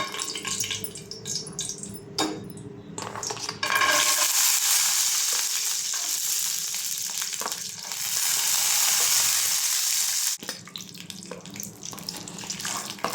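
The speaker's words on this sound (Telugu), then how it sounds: "ఆయిల్ హీట్ అయ్యాక పల్లీలు వేసేసుకుందాం." Peanuts and roasted gram dropping into hot oil in a pan for chutney, a loud, steady frying hiss that swells midway and then falls back, with scraping and clatter around it.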